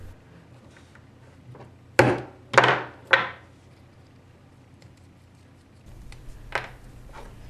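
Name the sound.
hammer and bolt punching holes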